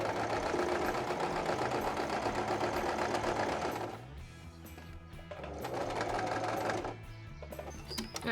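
Sewing machine stitching an apron runs loud and steady in close-up, with a brief slowdown midway before resuming its continuous mechanical whir; no talking.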